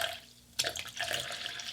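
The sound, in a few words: lukewarm water being poured into a container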